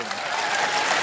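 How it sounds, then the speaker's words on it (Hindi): A live audience at an AWPL Ayurvedic gathering claps steadily, producing a dense, continuous wash of applause that stays loud and even throughout, with no voices on top. "ताली बजा दो"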